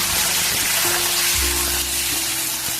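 Cut squash tipped into a hot pan of oil with split green chillies, setting off a steady, close sizzle and hiss of frying that carries on without talk.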